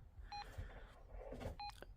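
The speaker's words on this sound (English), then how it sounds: "this is the beeping" Two brief electronic beeps about a second and a half apart, each a short steady tone, with faint movement and handling noise between them.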